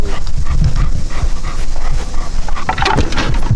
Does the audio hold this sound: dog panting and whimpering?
yes